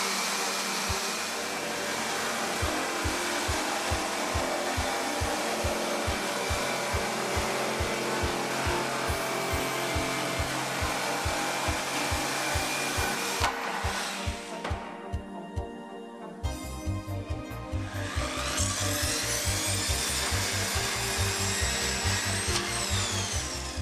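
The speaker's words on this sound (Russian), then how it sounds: "Вставьте в Line Master, настройте пилу, зафиксируйте размер и можете пилить." A power saw, jigsaw or circular, cuts wood guided along a Line Master rail, a loud continuous whining buzz with a rapid rhythmic pulsing, briefly dipping and changing pitch partway before resuming at full volume.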